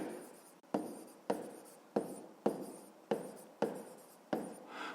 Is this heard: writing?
yes